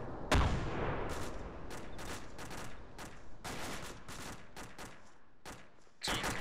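Machine gun fire in the military video game Arma comes as repeated rapid bursts and scattered shots, with some sharp and near and others more distant, over a rumbling battlefield background.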